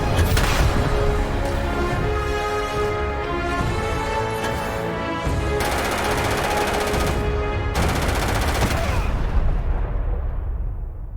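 Loud, dense gunfire from the video game Starfield fires in rapid automatic bursts over an ongoing mix of booming game sound, with no talking.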